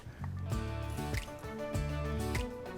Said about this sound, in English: Some excess water may come out of the pipe.